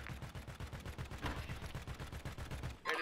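Rapid automatic gunfire in a video game, a steady stream of close, even shots lasting nearly three seconds before a brief different sound cuts in.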